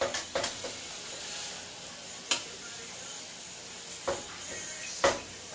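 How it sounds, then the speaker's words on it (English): Chicken sizzles steadily in a hot pan for chicken alfredo, a constant hissing crackle punctuated by several sharp clicks and scrapes of tongs. "Oh, you hear that sizzle? Look for the sizzle, baby."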